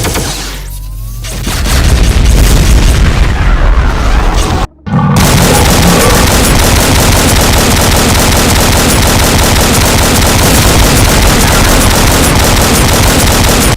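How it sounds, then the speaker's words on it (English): Heavy weapon fire from a BFG 9000 in a modded Doom game: a loud, dense barrage of booming blasts and rapid gunfire that rumbles continuously, briefly cutting out near the five-second mark before resuming at full intensity. "a BFG 9000 shot"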